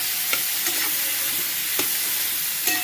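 Soybean chunks fry in a pan of roasted masala with a steady close sizzle, broken by several light scrapes and taps of a spoon stirring through the mix.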